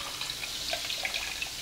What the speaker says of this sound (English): let's take it over here to the blender. And I'm going to pour that in here.